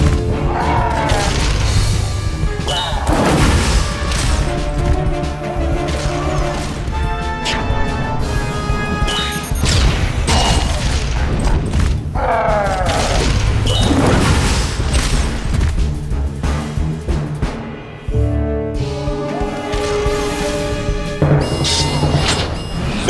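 Dense game-combat barrage in Costume Quest: a rapid string of loud booms, crashes and thuds from missile strikes, layered over busy music throughout, with brief dips between bursts.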